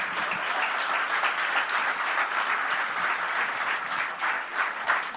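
Audience applause at an onstage conversation with a music composer, sustained dense clapping of a large crowd that stays even and fairly distant for several seconds with no talk over it.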